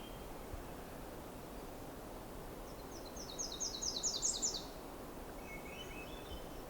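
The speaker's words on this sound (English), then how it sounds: "Myrtle Warbler never really has harshness to that. It's always soft." A Myrtle Warbler sings a soft, brief trilled phrase of quick high notes, faint and somewhat distant over steady hiss of outdoor background, followed by a quieter short chirp; nobody speaks.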